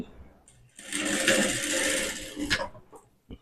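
A sewing machine stitches two layers of blouse fabric in one steady close run of rapid mechanical clatter lasting about two seconds, starting and stopping abruptly, with quiet handling sounds before and after.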